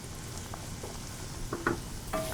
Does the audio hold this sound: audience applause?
no